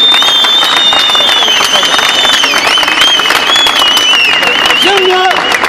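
A university protest crowd in solidarity with workers claps loudly, a dense wash of applause cut through by long shrill whistles and scattered shouting.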